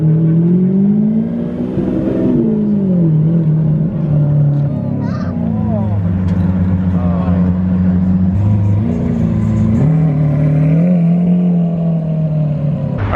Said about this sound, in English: Alright, the super nice spec Aventador is leaving.